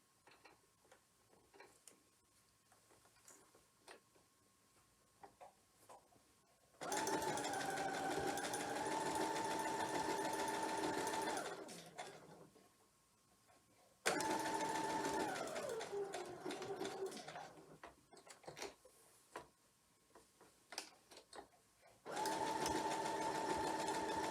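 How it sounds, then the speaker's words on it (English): Sewing machine stitching a seam on a clamshell quilt block, running in three steady bursts of whirring, rapid stitching separated by pauses with faint handling noises, close and loud. "So here we go with another seam, starting out here on the edge."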